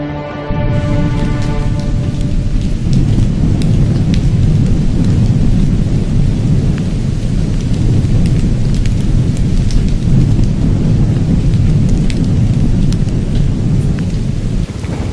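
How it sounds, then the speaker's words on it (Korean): Heavy rain pours steadily over the dry Central Asian steppe of the Gobi, with rolling thunder rumbling beneath a dense, continuous roar of falling water throughout. "그 귀한 비가 내리는 날"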